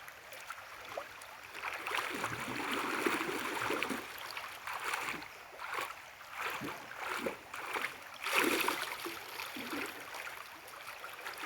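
Shallow river water at New Tigbauan flowing and splashing, uneven bursts of sloshing and churning with quieter trickling between them, close by and with no speech.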